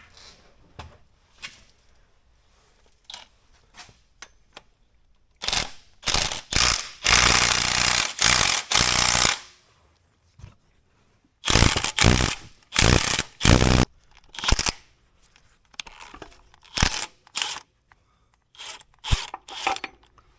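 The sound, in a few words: wrench loosening broken exhaust manifold bolts on Peterbilt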